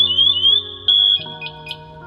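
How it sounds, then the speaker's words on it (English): A firefighter's air pack alarm sounds during a morning equipment check, a shrill, continuous electronic beeping tone with a short gap, then shifts into a lower buzzing alarm pattern close by. "checking the alarms on that air pack to make sure that it's up and running correctly"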